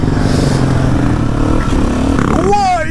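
Motorcycle engine droning steadily up close, with a rising whine near the end as it revs, during a coaster wheelie ride, with some clatter mixed in.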